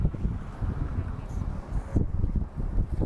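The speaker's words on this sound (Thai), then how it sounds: "เดี๋ยวให้ลมมันผ่านไปกัน" Strong outdoor wind buffets the microphone in loud, uneven low rumbling gusts, with no talk over it.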